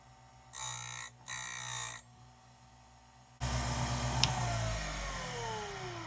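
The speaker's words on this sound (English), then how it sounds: "you just barely have to touch the blade to the grinding wheel" A saw blade's tooth is pressed lightly against a spinning grinding wheel: two short whining bursts, a pause, then a loud, steady rasping grind with a ringing tone over the motor's hum.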